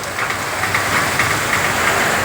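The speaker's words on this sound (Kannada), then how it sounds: "ನಮ್ದು ಇದು ಶೆಡ್ ಬಿದ್ದು ಬಿಡ್ತೀರಿ ಮಳೆ ನೋಡ್ರಿ ಗಾಳಿಗೆ" Heavy rain driven by wind pounds steadily on the roof of a roadside shop shed, a dense, continuous hiss and patter with no pauses.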